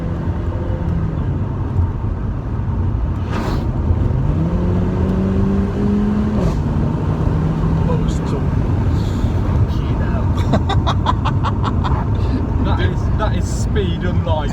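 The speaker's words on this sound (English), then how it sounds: "I'm going to give it a bootful just so you can experience the AMG power along with me and see what it sounds like" Mercedes AMG engine pulling hard under full throttle, a loud sustained roar with rising pitch sweeps as it climbs through the gears, heavy road and wind noise throughout, with someone talking over it.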